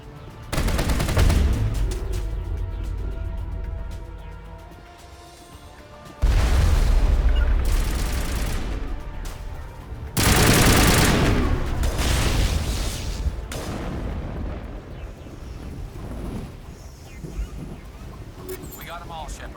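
An enemy gun turret fires in the sci-fi game Mass Effect, with loud, heavy bursts of repeated blasts and booms that come in several separate volleys close up, and speech can be heard in places between them.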